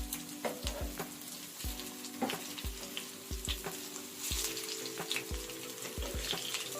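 Bengali prawn fritters (phool chingri bora) frying in hot oil in a wok over medium heat: a continuous bubbling sizzle with a regular run of soft, low bursts and pops, close and steady, with no talk.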